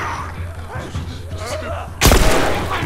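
A single sharp gunshot bursts out in The Last of Us, a loud broadband crack that follows a stretch of excited talking and decays over the next second.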